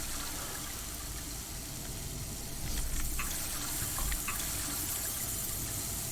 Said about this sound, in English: Hey, water fountains.